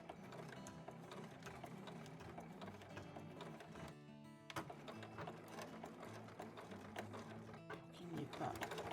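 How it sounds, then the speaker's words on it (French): A sewing machine stitches fabric scraps into a small pouch, running in a fast continuous rattling whir close up, with one short pause midway before it resumes. "Et je couds de part en part."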